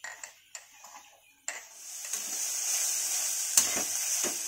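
Kochur loti (taro stolons) fry in a pan: a few sharp stirring clicks, then a continuous close sizzle that swells and stays steady, with an occasional tap of the spatula.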